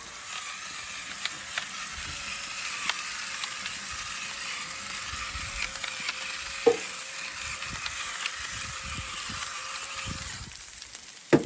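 Breakfast sizzling on a Blackstone griddle: a steady, crackling fry that runs throughout, broken by occasional sharp clicks and scrapes of utensils against the metal surface.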